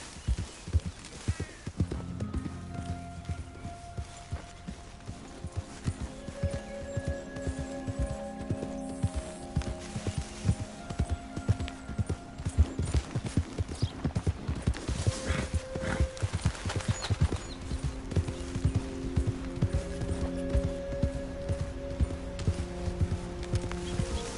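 Horse hooves clip-clop and gallop steadily in Red Dead Redemption 2, with close, rhythmic hoofbeats continuing throughout alongside game music and an occasional whinny.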